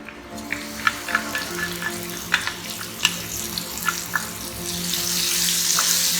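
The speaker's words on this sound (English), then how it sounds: "Now bring the flame down and pour this mixture into the pan." A mixture of red chili powder and water hits hot oil in a pan over lowered flame, bursting into a loud steady sizzle with sharp crackling pops that rises into a continuous hiss toward the end.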